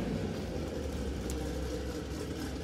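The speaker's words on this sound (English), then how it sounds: "Hopefully you'll be able to hear me over this loud car." A loud race car built for Pikes Peak runs nearby, a steady low engine rumble and drone filling the moment with little variation and no talk.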